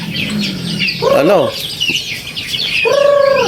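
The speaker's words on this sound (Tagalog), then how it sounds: "Ito yung mga natitira dito mga kababayan na manok namin" Free-range native chickens in a backyard give clucking and rising-falling calls, two clear bursts near and loud over a busy outdoor background of chirps and faint noise.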